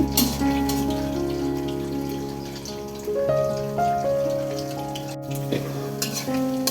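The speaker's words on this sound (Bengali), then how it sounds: "ডিম দিয়ে আগে আমি জুড়ি ভাজা করে নেব" Eggs being scrambled in hot oil with a bright continuous sizzle, joined by steady scraping and stirring against the pan; no talking.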